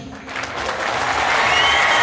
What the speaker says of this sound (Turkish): Bir güzel alkış.